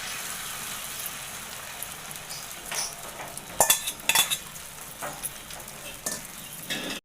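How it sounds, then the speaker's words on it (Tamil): Beaten egg frying in ghee in a pan for a bread omelette, a steady close sizzle with scraping and stirring clatters from a utensil, and no one speaking. "இப்போ நம்ம அடித்து வச்சுருக்க இந்த முட்டையை சேர்த்துக்கலாம்."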